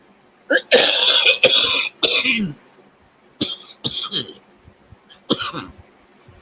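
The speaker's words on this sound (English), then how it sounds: "Might quit coughing." Someone coughing repeatedly during a live stream, loud and close, a burst of harsh coughs followed by several more separate coughs after short pauses.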